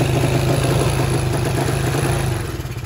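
A Racal Wavestyle motorcycle with a loud exhaust, its engine running close up with a steady clattering idle rumble that eases slightly toward the end.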